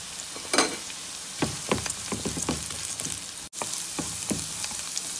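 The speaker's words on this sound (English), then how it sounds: "I'm gonna add in the rice and again, saute for about 1 minute" Garlic, onion and rice saute in hot oil for a rice and vegetable soup, a steady close sizzle with scattered crackles and a few stirring scrapes throughout.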